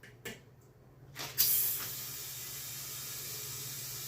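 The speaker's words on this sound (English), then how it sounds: "Now we're going to send air into the bead until she pops" Compressed air hisses steadily into a tire to seat the bead, a loud continuous rush that swells after a couple of short bursts and then holds on without a break.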